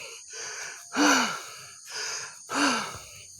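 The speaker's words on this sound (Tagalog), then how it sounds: "Kasi, hingal kabayo na ako." Heavy, ragged panting from a hiker worn out after climbing a mountain, with loud gasping in-breaths and rasping exhales in an uneven rhythm, close to the microphone with no talk.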